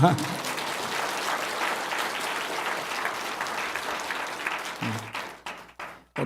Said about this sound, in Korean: 그러면은 1억 생겼을 때 기쁨 이상으로 표현을 하셔서 박수를 치셔야 돼요